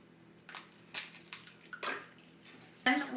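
A small egg cracked into a bowl to make egg wash for dinner rolls, giving a few sharp close crunches and taps with brief wet splats and no talk.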